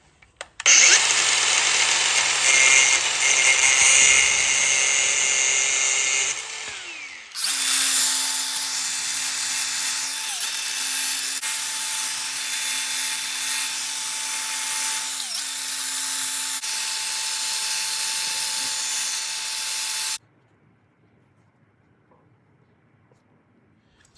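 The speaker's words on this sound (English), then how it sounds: "Grinder with a cutoff wheel." An angle grinder with a cutoff wheel cuts through a wiper arm on a Delica L400, a loud sustained whine that dips briefly, resumes steadily and then stops abruptly.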